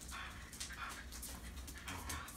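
Two dogs play on a slippery indoor floor, giving faint soft whimpers, yips and scuffling sounds in short bursts at a low level, with no clear barking.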